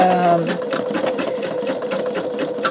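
An embroidery machine stitches out a greeting card, giving a close, steady, rapid series of needle clicks over a motor hum, with a brief tone at the start as it begins running.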